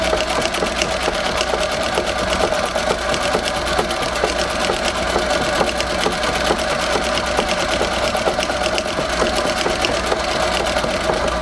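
A Singer 201-3 sewing machine in a treadle stand stitching continuously, a loud, even, rapid mechanical clatter that runs unbroken with no talk.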